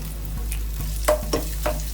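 Chicken stirred in a pan with chopped coconut pieces for a pepper chicken roast: a steady close sizzle of frying with three sharp scraping strokes of the spoon against the pan, no talk.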